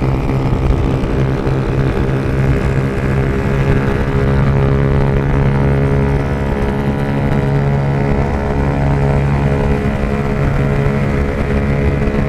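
Motorcycle engine and exhaust roaring continuously while riding, a loud, steady drone with strong low harmonics and no talk over it.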